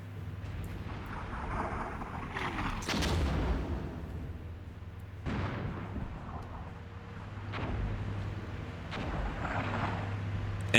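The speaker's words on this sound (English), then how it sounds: "We're taking devastating artillery fire." Artillery fire in the video game Armored Brigade II booms in about three heavy, separated blasts over a low, steady rumble, fairly distant and muffled, with no voices.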